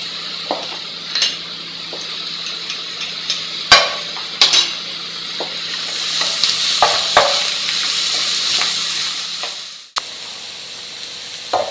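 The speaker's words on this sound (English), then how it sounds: "So I've had the onions and garlic on a low heat" Onions and garlic cook slowly over low heat for a lamb tagine, a soft steady sizzle with scattered sharp clinks and knocks of a utensil on the pan, the hiss swelling midway before abruptly cutting off.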